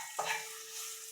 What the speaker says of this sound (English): Don't forget about your cabbage, your Fatback that you have on the stove